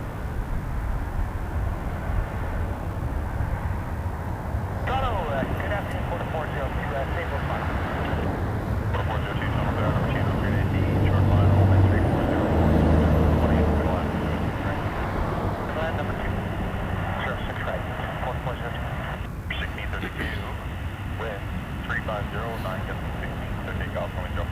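An Airbus A320 airliner rumbles steadily at Toronto Pearson Airport, a broad engine roar that swells in the middle and then holds, heard from a distance while people talk.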